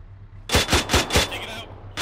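A Mark 19 grenade launcher in a military video game fires a rapid string of four or five heavy, evenly spaced thumps, loud and close, a short pause, then another round.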